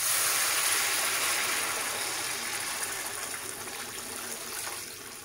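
Water pours steadily into a pot of Bengali-style chicken drumstick curry, a continuous broad gushing rush that slowly eases over several seconds.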